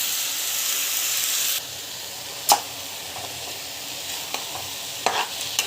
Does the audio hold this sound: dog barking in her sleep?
no